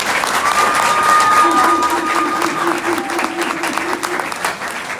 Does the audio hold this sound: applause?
yes